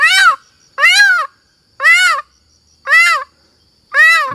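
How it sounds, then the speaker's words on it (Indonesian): Female red junglefowl hen gives five evenly spaced, loud harmonic calls, each about a third of a second, with short silent gaps between them and no talking. "ayam hutan betina."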